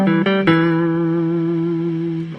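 Electric guitar through an amp with reverb added, a few picked notes followed by one chord left to ring and slowly decay, close and steady.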